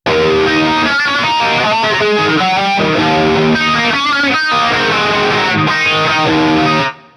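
An electric guitar played through a Marshall amp simulator with modulation effects placed before the amp rings out as loud, distorted chords and riffs, continuous and close, then cuts off sharply at the end.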